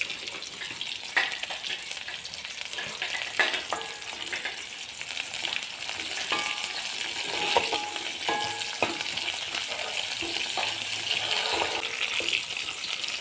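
Lemongrass and curry leaves frying in hot oil, a steady close sizzle with occasional clinks and stirring scrapes throughout, with no talking.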